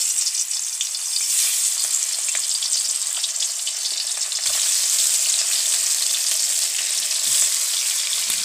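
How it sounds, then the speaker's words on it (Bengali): Fish heads frying in hot oil, giving a loud, steady, dense sizzle that goes on for the whole stretch with no talk. "মুড়োগুলো আগে ভেজে নিই।"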